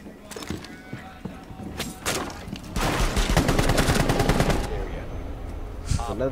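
Rapid bursts of gunfire from a video game shotgun, a dense sustained volley in the middle with scattered single shots before and after, loud and close, with players talking over it.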